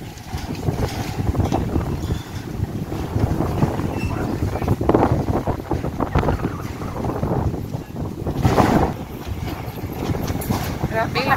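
Strong wind at Silay International Airport buffets the microphone in gusty, rumbling bursts, with a person talking under the noise.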